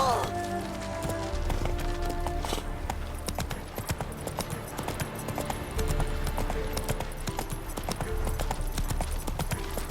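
Roach, a horse in The Witcher 3, galloping in a fast, steady clip-clop of hooves with music and game sounds over it, and a voice briefly speaking.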